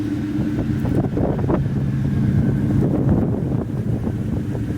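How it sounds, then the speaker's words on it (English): Strong wind buffets the microphone outdoors beside a Ford Mustang GT, giving a loud, continuous low rumble with gusty surges and no speech. "I apologize for all the wind. It's like extremely windy today."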